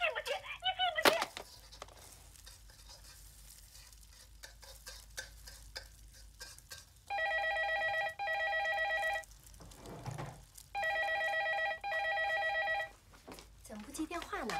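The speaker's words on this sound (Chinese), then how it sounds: "怎么不接电话呢？" An old-style telephone bell rings in two long double bursts, loud and close, amid quieter household clatter and brief voices before and after.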